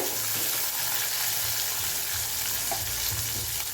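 Shallots, dried red chillies and green chillies sauté in hot oil in a pan for a Kovai-style toor dal dish, giving a steady, loud close sizzle with occasional stirring scrapes and no voices.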